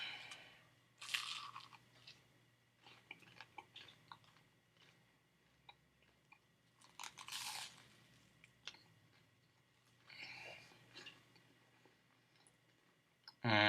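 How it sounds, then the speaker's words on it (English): Close crunching and chewing of a flaming hot nacho bacon cheeseburger, several loud crunchy bites spread out between quieter wet mastication, with small clicks and a sharp noise at the very end. "Let me finish chewing up and swallowing."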